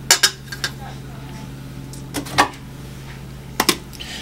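Dry scone ingredients, oats, flour and sugar, dropped into a mixing bowl: a few sharp clinks and knocks from a utensil on the bowl, separated by quiet gaps over a low hum.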